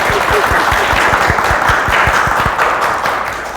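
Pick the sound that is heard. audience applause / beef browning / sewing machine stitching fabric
audience applause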